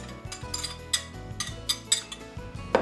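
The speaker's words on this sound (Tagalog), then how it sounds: "Haluin maigi hanggang magsama ng pantay ang asukal sa arena." Sugar and flour being mixed in a large bowl, with repeated clinking and scraping of a utensil against the bowl in an uneven rhythm, close and fairly loud with no talking.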